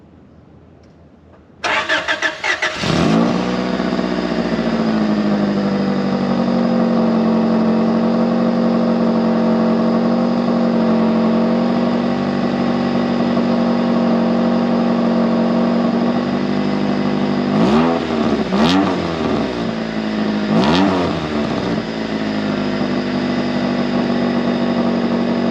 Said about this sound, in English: I'm gonna cold start it for you guys so you know how it sounds.